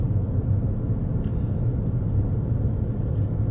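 A 2013 Ford Taurus SEL on aftermarket tires cruises in fourth gear, heard from inside as a steady low road and engine rumble with faint tire hum and no talking.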